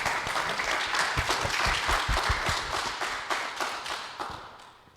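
An audience at a heritage panel discussion breaks into steady, full applause that holds dense and even for several seconds before gradually tapering off.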